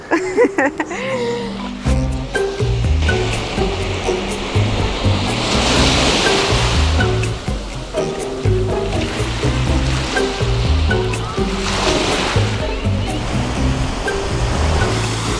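Sea surf rolling onto a beach in Chile, a loud continuous wash of breaking waves that swells and recedes over about fifteen seconds, with other sounds mixed in beneath.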